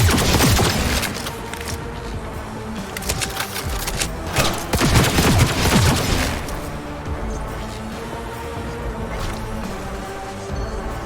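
Rapid bursts of gunfire in the video game Cyberpunk 2077, dense and loud with crashes mixed in, running steadily across the whole stretch and peaking in the middle.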